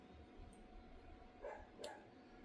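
A neighbor's dog barks in the distance, two faint yips in a row, quiet against a low background hum.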